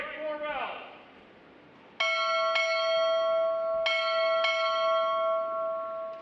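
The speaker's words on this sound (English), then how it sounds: "Time orderly, strike four bells." A ship's bell rings four strokes in two quick pairs at a U.S. Navy Recruit Training Command graduation ceremony, clear ringing tones that linger, preceded by a brief voice.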